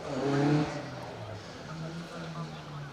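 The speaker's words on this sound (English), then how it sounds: "As you see that fairly battered Escort of Guy Gittins" A battered Ford Escort rally car on a stage rally drives past with a loud engine roar that swells early and then fades into a steady drone, heard under a commentator's talk.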